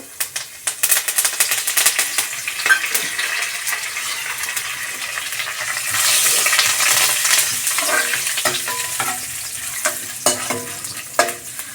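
Chana dal and curry leaves crackle and sizzle in hot oil for capsicum lemon rice, with loud, close, irregular clinks and scrapes of a spoon stirring against the pan throughout.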